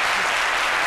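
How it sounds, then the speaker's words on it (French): A brief burst of studio audience applause during a televised midday talk show, dense and continuous, loud and close with no speech over it. "Donc ça s'applaudit"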